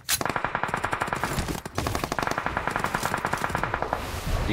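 Rapid automatic gunfire rattles in a mobile shooter game, with fast bursts of bright shots running almost unbroken and one brief pause.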